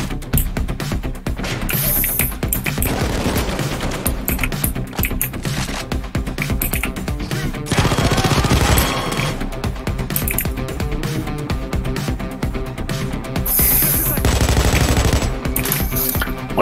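A video game turret hammers out long machine-gun bursts, rapid crackling shots that stop and restart, loud and close with bright metallic impacts at intervals and a dense gameplay soundscape beneath.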